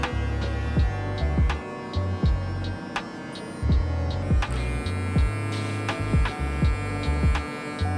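Electric hair clippers fitted with a 1 guard detailing a taper fade, a close steady buzzing hum that pulses and shifts as the blade taps repeatedly against the hair.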